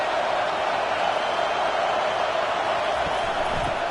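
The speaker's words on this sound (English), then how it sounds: "This crowd bringing the energy and noise early." Stadium crowd noise in the College Football 25 video game during an Oregon vs Penn State matchup: a loud, continuous roar of a packed crowd, steady and unbroken throughout.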